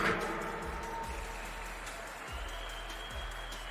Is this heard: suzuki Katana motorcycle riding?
no